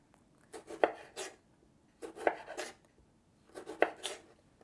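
A knife slices firm Roma tomatoes on a cutting board for a cucumber salad, giving three short clusters of crisp, close chopping strokes separated by brief pauses.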